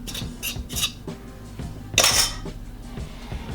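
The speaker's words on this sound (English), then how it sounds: "Mix these all together. Make sure it's nicely mixed." Batter for banana Lindor muffins is stirred in a bowl, with a utensil clinking and scraping against the sides in a few quick bursts and one brighter clatter near the middle, close and alone.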